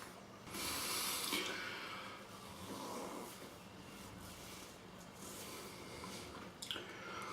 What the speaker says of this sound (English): So I'm going to have a face wash with this